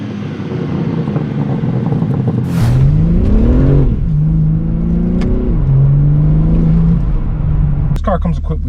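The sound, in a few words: BMW M3 Competition G80 driving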